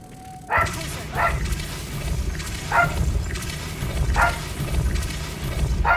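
A dog barks repeatedly, about five sharp single barks at roughly one-and-a-half-second intervals, moderately close over a low background rumble.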